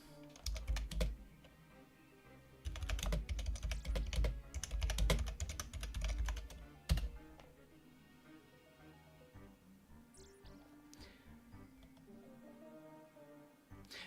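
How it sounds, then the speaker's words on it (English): Loud mechanical-sounding computer keyboard typing during an Old School RuneScape community pride event stream, with dense clattering bursts of keystrokes, then quieter scattered taps and faint background sounds. "You have to, unfortunately, listen to my loud-ass keyboard."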